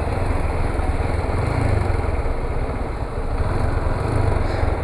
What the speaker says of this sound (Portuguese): Acelerando essa moto, galera, se eu parar de acelerar, parece que ela morre